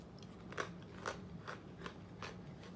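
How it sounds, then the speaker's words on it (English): A crunchy homemade bagel bite snack breaks apart in five sharp, crackling snaps spaced about half a second apart, close and faint against a quiet background. "this is the bagel bite. Oh my, it's good and crunchy"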